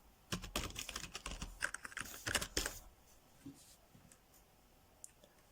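Rapid keystrokes on a computer keyboard clatter in a close burst of clicks for a few seconds, then give way to near silence with one last isolated tap.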